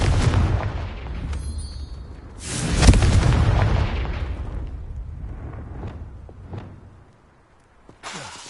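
A Confringo spell in the Hogwarts Legacy video game bursts with a loud booming blast that rumbles and decays, followed by a second heavy explosion and a few fainter impacts trailing off to near silence.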